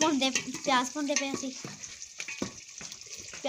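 Potatoes and onions sizzling in a home kitchen pan, a steady hiss with a voice talking over it at first before the frying carries on alone.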